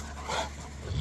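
Cane Corso dogs at play, with a brief soft whine and huffing breaths close by, over a low steady background, no speech.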